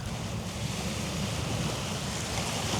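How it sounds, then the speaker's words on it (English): Strong wind roars steadily across a shoreline fishing spot, buffeting the microphone with a constant low rumble and surf-like hiss and no pauses. "when the wind's in your face like this"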